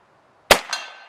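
An Airforce Texan .457 CF big-bore air rifle fires a single loud, sharp report after a moment of silence. A second smaller crack follows immediately, and the sound decays in a short ringing tail.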